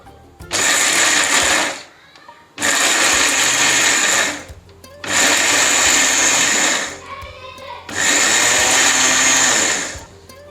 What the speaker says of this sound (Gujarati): તો હવે આપણે મિક્સરમાં વાટકો રાખી દીધો છે અને આપણે મિક્સરનું બટન છે તે બંધ ચાલુ કરી